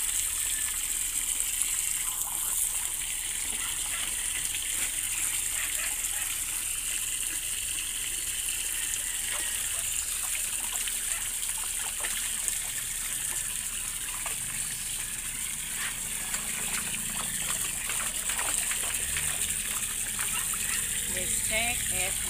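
Water splashing and gushing as a pet plays in it, a continuous bright rushing wash with scattered small splashes throughout, loud and close.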